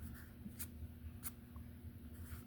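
A pencil scratches softly on paper in short strokes over a steady low hum, close and faint.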